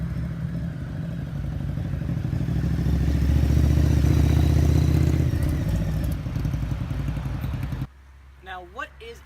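A 2009 Harley-Davidson V-Rod Muscle engine runs with a loud, throbbing rumble that swells in the middle and then cuts off abruptly. A voice follows briefly in the quiet after it.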